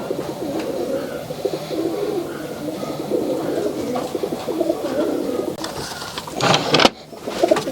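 Giribaj pigeons coo in low, throaty, repeated phrases close by, a steady murmur of several birds with a burst of louder rustling flutter near the end.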